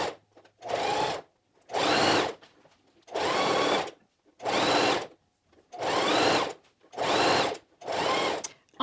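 A sewing machine stitches around a t-shirt neckband using a quarter-inch presser foot, running in seven even bursts of about half a second to a second, each separated by a short pause, close and clear with no talk.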